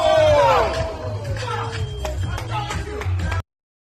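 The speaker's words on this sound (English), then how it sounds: "Everybody's cheering." Gym onlookers cheer and yell after a knockout in a sparring session, a loud burst of crowd noise at first that settles into steady excited chatter and shouts.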